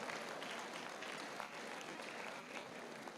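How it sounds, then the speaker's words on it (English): A crowd claps steadily through a university convocation ceremony hall, the applause sustained and even but fairly distant and quiet, with no voices over it. "A round of applause."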